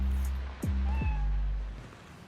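A cat in the Spider-Man: Miles Morales video game gives two short, clear meows over a steady low hum, the second rising in pitch, with a faint sliding tone after.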